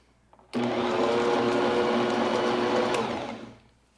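A Bosch stand mixer churns Linzer cookie dough, switching on sharply and running as a loud, steady motor whir for about three seconds before winding down.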